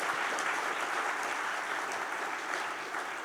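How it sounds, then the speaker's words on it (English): Audience applause for a panel of speakers at a foundation briefing event, a dense steady wash of many hands clapping that holds at an even level throughout, with no voices over it. "Can we give a big applause to all the speakers?"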